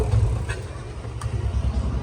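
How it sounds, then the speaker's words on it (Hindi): A Royal Enfield Bullet motorcycle engine runs close up with a misfire, giving a low uneven thumping idle with irregular pulses throughout. "ये है मिस की दिक्कत भाई"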